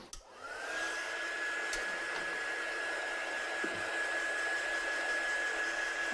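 A hair dryer blows steadily and close for several seconds, drying a handmade watercolour card textured with salt and coffee; its even whine and airy hiss stay unbroken, with no talking.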